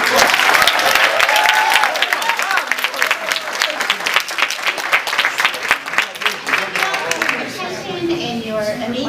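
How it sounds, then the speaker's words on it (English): Loud, dense applause from an audience following a presentation, sustained across the whole stretch with a crowd murmur and some voices mixed in, thinning slightly toward the end. "Representative deserves a huge round of applause."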